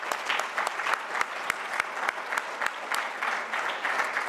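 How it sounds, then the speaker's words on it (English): An audience at a keynote address applauds the club leaders and organizers with brisk, fairly close clapping, individual sharp claps standing out from the steady patter throughout. "let's give them a round of applause"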